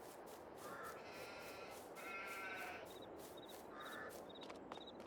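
Sheep bleating in the farming game Farming Simulator 22, several calls at intervals over a constant ambient background, with occasional bird caws and no talking.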